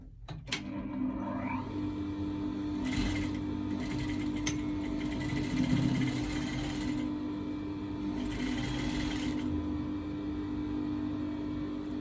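A sewing machine stitches a welt pocket on a pair of trousers with a steady, close mechanical whir. The motor pauses briefly and then speeds up again in a few bursts.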